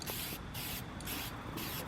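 Spray paint hissing onto an intake manifold for a first coat, in a series of short bursts broken by brief pauses, close and steady, with no voices.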